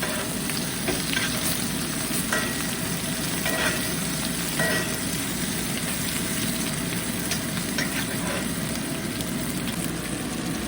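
Steak sizzling steadily in a hot cast iron skillet with the heat switched off, a dense continuous frying hiss that stays loud and even throughout, with no voices.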